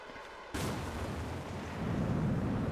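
A rocket engine ignites in Kerbal Space Program with the realism mods RSS/RO/RP-1, a sudden loud onset of broad roaring rumble that holds steady and swells slightly toward the end.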